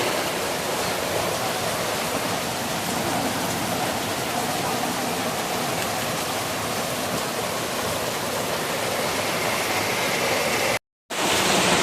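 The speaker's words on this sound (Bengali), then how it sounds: "এখানে জলটা ফুটে গেছে।" Water boils hard in a steamer pot, a loud, dense, continuous hiss and bubbling heard up close, broken once by a brief dropout near the end.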